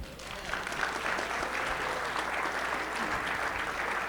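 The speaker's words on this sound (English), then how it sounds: "please give them a round of applause" A crowd applauds a dance group about to give its first performance at a sports hall of fame ceremony, steady sustained clapping filling the room at moderate volume without pause.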